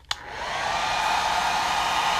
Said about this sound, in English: So what I use sometimes is a hair blower.